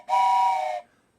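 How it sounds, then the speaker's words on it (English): A train whistle in the OpenTTD video game sounds once as a single loud, steady tone lasting under a second, then cuts off cleanly. "A train whistle for you as well."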